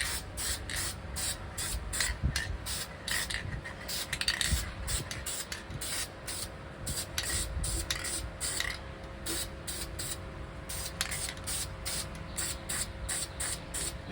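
High heat spray paint is applied over bare welded metal brackets on a Monte Carlo in quick, repeated short bursts of hissing spray, steady in rhythm and fairly close.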